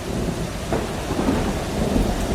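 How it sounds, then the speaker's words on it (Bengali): A dense downpour of rain hisses continuously during a storm while low thunder rumbles and rolls underneath, loud and sustained with no voices. "মাঝে মাঝে বাজ পড়ার শব্দে যেন থরথর করে কেঁপে উঠছে বাড়িটা।"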